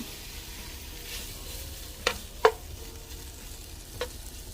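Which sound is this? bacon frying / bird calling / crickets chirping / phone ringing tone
bacon frying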